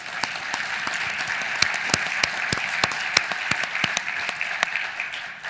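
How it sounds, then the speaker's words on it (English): An audience claps steadily throughout a pitch event, with dense, even applause in a room and a few sharper individual claps standing out. "Also want to just give a round of applause and congratulate the 3 people who just pitched"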